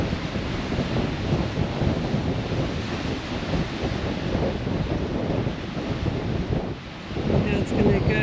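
Strong wind blows outdoors, buffeting the microphone with a constant low roar and rumble that barely lets up for the whole stretch.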